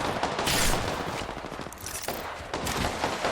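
Rapid bursts of gunfire from a horror video game crackle in a dense, noisy barrage throughout, fairly faint and continuous with no talk heard.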